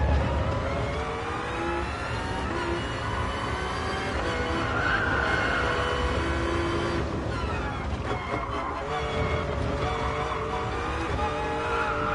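A race car engine in the Gran Turismo Sport video game holds a steady high whine during laps, with pitch sweeping up and down through gear changes and a brief tire squeal midway.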